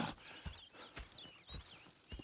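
Horses moving on ground in Red Dead Redemption 2, with a run of clip-clopping hoofbeats at a steady walking rhythm, fairly close and quiet, mixed with soft creaks and a faint whinny-like squeal.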